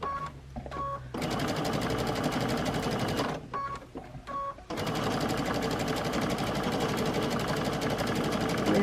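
A sewing machine stitches red thread around an appliqué leaf for a mug rug, a fast steady mechanical whirr that pauses briefly twice with a few faint beeps from the machine between bursts.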